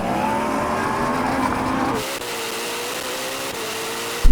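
A Yamaha R1M superbike, a Porsche Taycan Turbo GT and a Ferrari SF90 drag race, with a loud, sustained, rising engine and motor whine that steps down partway through, then continues steadily near and alone.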